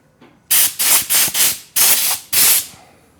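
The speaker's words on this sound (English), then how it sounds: "I like to use air to just blow this on." Six short, loud bursts of compressed air hiss in quick succession as a retro handlebar grip is blown onto the handlebar of a 2024 Triumph Bonneville T120, each blast cut off sharply.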